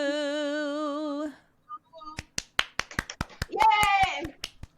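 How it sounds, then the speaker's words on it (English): After a sung note ends, a small group at home claps in a loose, uneven burst of separate hand claps, with a cheerful voice calling out over them. "A round of promised applause."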